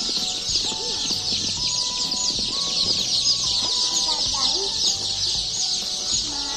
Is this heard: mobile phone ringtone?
no